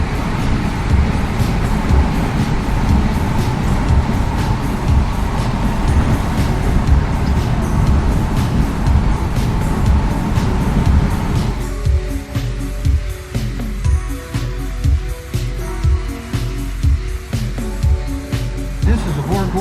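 Interior of a Volvo 164 with a Borg Warner 35 automatic and D-Jetronic fuel injection cruising at about 70 mph, a steady low road and engine drone filling the cabin throughout.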